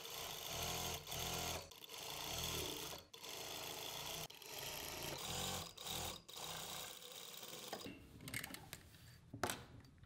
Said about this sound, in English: On the same stitch line, stitch again to reinforce the stitch.